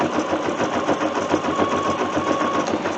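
A domestic embroidery sewing machine stitches an in-the-hoop coffee cup cozy, its speed dial set just below halfway. It gives off a steady, fast mechanical chatter with an even rhythm, close and clear, with no voices.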